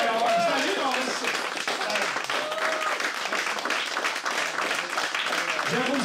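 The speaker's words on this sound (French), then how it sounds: "Je vous applaudis." A crowd claps in sustained, dense applause that stays loud and even throughout, with voices and cheering mixed in.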